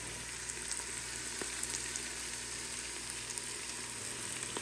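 Tomato paste sizzles as it cooks in an Instant Pot for chickpea curry, a steady soft frying hiss close by with a few faint pops and ticks, no voices.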